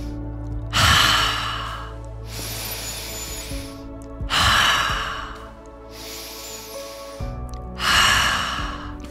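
Forceful rhythmic breathing exercise done while swinging the arms forward and apart as in breaststroke, with four loud, long, airy breaths in a steady cycle, each rising and fading, close and alone with no talking.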